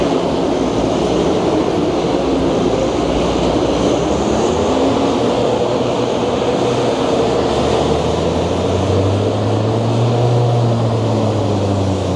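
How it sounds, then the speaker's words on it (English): A loud, continuous mechanical roar of a wheat harvester, its variable-speed fan's pitch rising steadily toward the end. "Hear the fan speeding up there."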